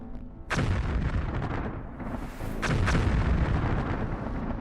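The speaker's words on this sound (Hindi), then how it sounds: "इजराइल जब अमेरिका से मिले बंकर बस्टर बम मारता है तो क्या होता है?" Bunker buster bombs exploding in Israeli strikes, two massive deep booms in quick succession, each followed by a long rumbling roar of blast and debris, loud and without speech.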